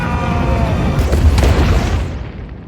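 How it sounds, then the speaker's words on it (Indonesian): A tunnel blowing up in a film scene, a loud deep rumbling boom that swells and rolls for about two seconds, then cuts off abruptly. "Terowongan itu meledak dan orang tuanya tewas"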